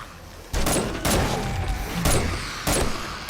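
Armor-piercing gun firing in the game 7 Days to Die, four loud booming shots spaced about half a second to a second apart, each with a long ringing tail, no talk.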